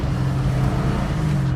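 A 1967 Ford Mustang GT500 restomod with a 520ci engine and carburetor idles steadily nearby, a deep, even low rumble that holds continuously without revving.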